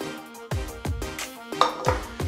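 A spatula chops and folds sushi rice in a bowl, making repeated soft thuds and scrapes at a steady rhythm, with occasional light clinks of the bowl, close up and without talk.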